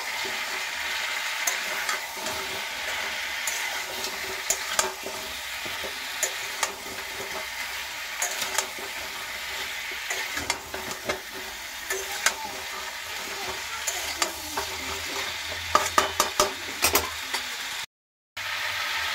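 A fish head curry with pumpkin, potato and cumin powder is stirred and fried in a pan, giving a steady close sizzle with frequent scraping clicks of the spatula throughout.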